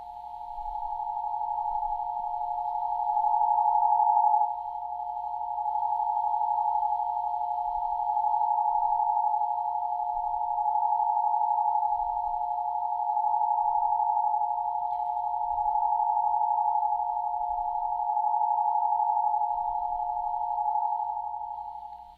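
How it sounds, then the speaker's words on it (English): A steady pure 1184 Hz tone hums continuously at a fixed pitch, unchanging for over twenty seconds, with faint low thumps underneath. "There's the 1184 is the cymatics frequency."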